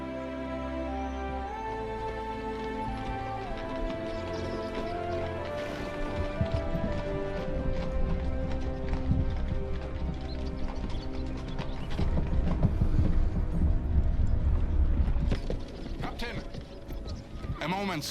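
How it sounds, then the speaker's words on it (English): Horse hooves clip-clop steadily in the medieval survival game Medieval Dynasty, set in a busy mix of music, wooden creaks and mechanical clatter with speech over it. "The horses will need to rest soon."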